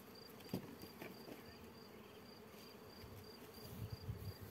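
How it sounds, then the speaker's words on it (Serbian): Wild honeybee swarm, taken from a beech tree and now housed in a hive, buzzing as a steady droning hum of many bees throughout, with a few louder passes of single bees close by. "Izvršit ću pregled ove košnice gdje sam ovaj doneo divlji roj iz bukve."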